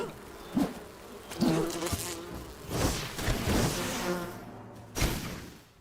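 Insect buzzing from bees in the video game Enshrouded drones through the scene, with several louder swells and soft thumps breaking in at irregular moments.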